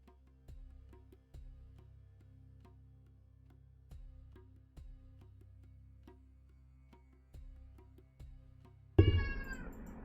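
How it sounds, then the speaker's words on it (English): A house cat meows at the door with a single sharp, close, loud meow near the end, after faint rhythmic ticking and quiet background. "I thought it was my cat at the door."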